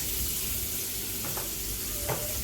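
Onions, garlic and ginger sauté in a pan, a soft steady sizzle under a low background hum, with a couple of brief stirring scrapes near the end.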